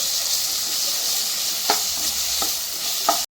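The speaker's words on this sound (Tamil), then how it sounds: "இதையும் நல்லா எண்ணெயில் வதக்கிடுவோம்." Ground masala frying in hot oil for a fish kulambu, a continuous bright sizzling hiss with a few sharp stirring scrapes near the end, close and steady.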